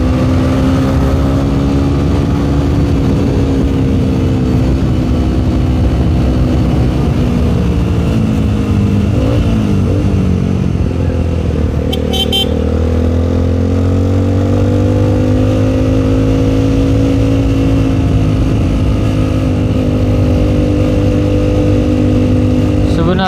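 Engine of a vehicle on a night ride through the city of Ambon, revving and accelerating steadily up close, its drone rising and falling in pitch over about twenty seconds with constant road noise.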